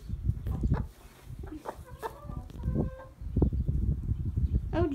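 Jill, a broody hen, clucks in low, repeated, fairly close calls over rustling and pecking, with a few brief higher squawks, in hot weather.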